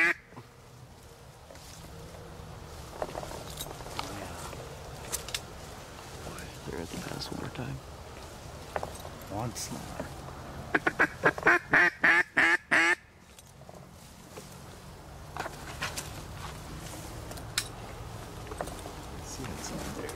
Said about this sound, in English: That thing was just a mallard coming from the left.